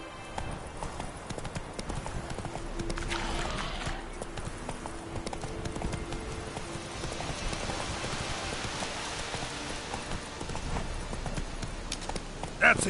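Geralt's horse Roach from The Witcher 3 gallops steadily in a video game, its rapid, rhythmic hoofbeats running the whole time beneath a rain-like wash, with a brief voice near the end.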